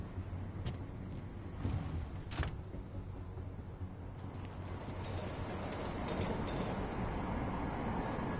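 Train travelling in the video game Deus Ex, a steady low rumble with rhythmic rattling and clanking of rail cars, a few sharper metallic clicks and creaks, continuous and moderately loud throughout.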